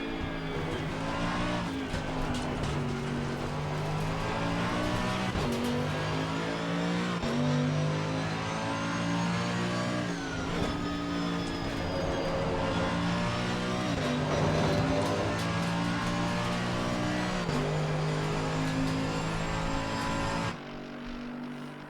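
A Mercedes-AMG GT3 Evo engine lapping Zandvoort in Assetto Corsa Competizione, loud and close, rising and falling through repeated upshifts and braking downshifts with occasional tire squeal, continuous for the whole lap segment.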